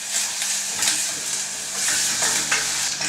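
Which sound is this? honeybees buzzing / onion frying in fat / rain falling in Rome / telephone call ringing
onion frying in fat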